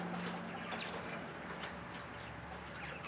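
Quail in a pen with one male and five hens give soft, repeated chirps and short calls, fairly faint and scattered over a steady background hiss.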